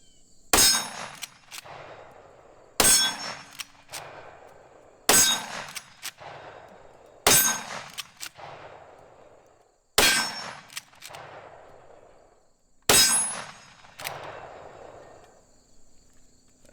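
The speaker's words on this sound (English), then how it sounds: "6 more shots." Six loud .44 Magnum shots of Freedom Munitions 240-grain XTP ammunition, fired from a handgun with a red dot sight, one at a time with gaps of about two to three seconds. Each sharp crack has a ringing tail, and nobody speaks.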